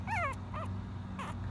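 Several short, high-pitched whimpers from a Pomsky puppy, thin rising-and-falling whines in quick succession, close and clear over a low background hum.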